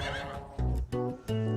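A horse neighs in three close, loud bursts, each a harmonic whinny that rises and falls, heard clearly on its own without talk.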